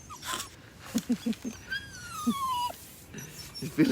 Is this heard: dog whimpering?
yes